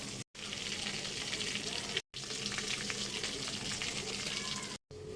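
Fish frying in hot oil gives a dense, steady sizzling hiss, close and continuous, broken by brief silent cuts, with faint stirring underneath and no clear talk.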